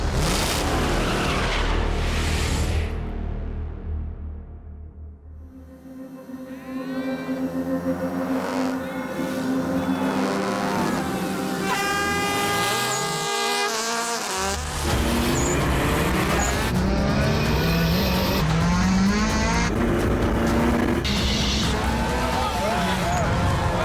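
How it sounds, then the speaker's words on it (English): Modified race cars climbing Doi Chang Mountain in a record attempt, engines revving and whining through gear changes for long stretches, loud and close, with voices talking over the racing throughout. "Racing modified cars to the top of Doi Chang Mountains."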